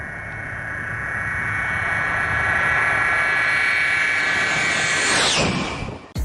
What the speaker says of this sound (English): This fighter jet doing a low pass.